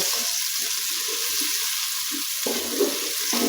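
Finely chopped onions, two of them, fry in hot oil, giving a steady close sizzle with low bubbling crackles throughout and no voices.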